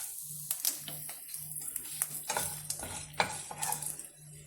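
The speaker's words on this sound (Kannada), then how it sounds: "ಇವಾಗ ಸಾಸಿವೆನ ಮೆಂತ್ಯ ಕಾಳು ಹಾಕ್ಕೊಳ್ತಾ ಇದ್ದೀನಿ ಇದಕ್ಕೆ" Mustard seeds, fenugreek and dry red chillies dropped into hot oil, giving faint scattered crackles and pops over a quiet low hum, with a few sharper spits and stirring clinks.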